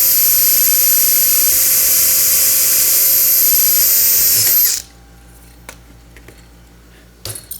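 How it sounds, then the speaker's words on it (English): A power drill bores through a metal beam to take a rivet during assembly of a launcher front section, a loud sustained high whine running for several seconds before stopping abruptly, followed by faint handling clicks. "All right, drilling through."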